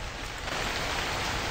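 Steady, heavy rain pouring down, a dense continuous hiss of drops on surfaces, loud and close with no pauses.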